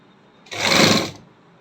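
A sewing machine stitches a half-inch shoulder seam on a halter neck garment in one short, close whirring burst that rises and stops within a second, with quiet before and after.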